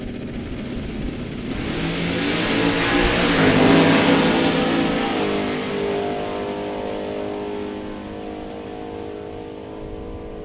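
Drag racing cars, a Chevelle and a Firebird, accelerate hard down the strip: a loud, sustained engine roar that swells to a peak around mid-pass and then fades as the cars pull away, with no talking.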